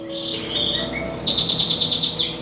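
Female canaries in an aviary chirp steadily while eating oats, a dense run of high twittering calls that grows louder and busier partway through, with no talking.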